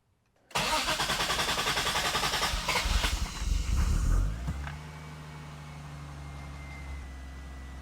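Rebuilt Toyota Supra engine cranking and catching, a loud, close rush of starter and combustion for about four seconds that settles into a steady, lower idle hum, with no talk.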